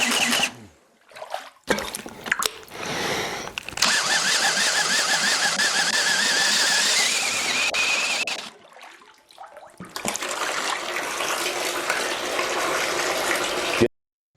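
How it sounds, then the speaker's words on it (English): A drain piston tool fires pulses into the water column of a plugged sink through a sealed sink nozzle, giving loud sustained churning and sloshing bursts with brief pauses between them, no talk. "the tool violently shakes the water column in a sort of hydraulic earthquake to dislodge the obstruction"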